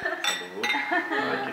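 Glasses clink together in a wedding toast to the bride and groom, with a couple of bright, ringing chimes close by amid lively voices.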